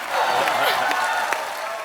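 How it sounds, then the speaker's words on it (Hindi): Scattered clapping from a TV comedy show studio audience, brief and dense, with a voice faintly underneath. "आप सबकी जोरदार तालियों के बीच इनवाइट करना चाहता हूँ the very beautiful and talented Shraddha Kapoor"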